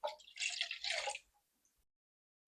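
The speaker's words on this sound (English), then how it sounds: "Now we're going to pour in a half a cup of cold water." Half a cup of cold water poured into a jello mixture, a soft splashing, gurgling pour lasting about a second before stopping, close and fairly quiet, followed by near silence.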